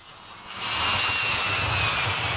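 A jet airliner roars steadily as it comes in to land, the broad engine rumble swelling louder after the first half-second and then holding at a constant level, with no voices over it.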